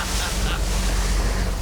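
A Titan-swapped Nissan Frontier pickup ploughs through water, giving a continuous loud rush of splashing and surging spray with a low engine rumble underneath, all packed into a brief burst.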